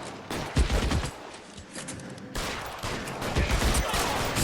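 Gunfire in the L.A. Noire video game, a few sharp shots scattered across a noisy game soundtrack, mid-distance and moderately loud.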